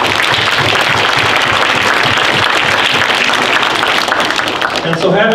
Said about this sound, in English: all of you out there, again, deserve another round of applause